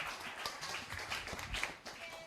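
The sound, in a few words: audience clapping for a speaker named Anna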